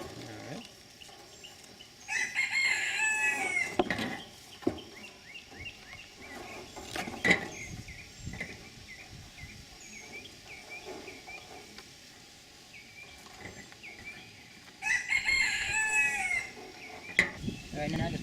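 A rooster crows in bursts outdoors beside a fish-trap build, two long harmonic calls rising out of steady insect and cricket buzz, with clucks and scattered knocks between them.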